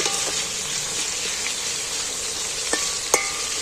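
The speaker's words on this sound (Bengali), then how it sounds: "এবার আমি একটু তেলের মধ্যে নাড়াচাড়া করে নেব, নিয়ে নেড়ে চেড়ে ভালো করে ভেজে নেব আলুটা।" Potato pieces frying in hot oil, stirred in a pan while cooking for a jackfruit curry, give a steady close sizzle broken by a few soft clinks of the spoon.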